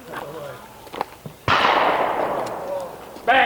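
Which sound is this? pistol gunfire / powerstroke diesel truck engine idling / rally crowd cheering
pistol gunfire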